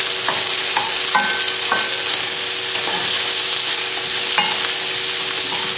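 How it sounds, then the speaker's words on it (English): Sausages sizzle steadily in a hot pan while a utensil scrapes and stirs them in repeated short strokes, close up. "So just give these sausages another little stir."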